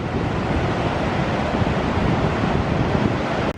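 Waves and wind on Paignton beach with the sea right in, a steady loud broadband roar of surf and gusting wind against the microphone, continuous throughout with no voices.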